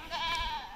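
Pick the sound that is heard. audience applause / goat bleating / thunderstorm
goat bleating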